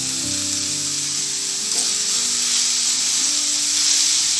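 Shredded cabbage and capsicum frying in a pan for spring roll filling, a loud, constant hissing sizzle filling the whole stretch, with faint sustained tones underneath.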